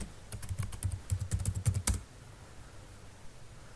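Rapid bursts of keystrokes on a computer keyboard as a password is entered, close and clear, in two quick runs before falling silent.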